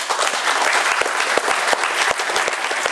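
A crowd at a school diploma ceremony applauds the graduating students and their parents with loud, continuous, dense clapping throughout, individual claps popping out of the wash of sound.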